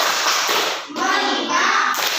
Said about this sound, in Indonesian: Ayo, tepuk fokus.